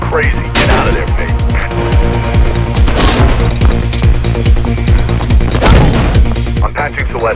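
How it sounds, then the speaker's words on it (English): Loud gunfire in the Mirror's Edge video game, with continuous bursts and single shots near a bridge, mixed with crashes and a dense game soundtrack throughout. "I can hear gunshots"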